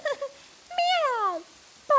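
Cartoon cat meowing in a Hindi children's cartoon, a few clear voiced meows, one drawn-out sliding call in the middle, close and distinct over quiet background.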